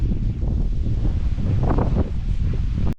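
Wind buffets the microphone on a misty mountain trail in North Georgia, a continuous low rumbling roar with gusts swelling midway, fairly loud and close, before cutting off abruptly at the end.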